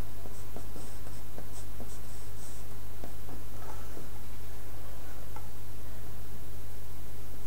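Pastel being drawn onto a sheet of pastel paper, close and dry: soft scratchy strokes and light taps in an irregular rhythm over a steady low background hum.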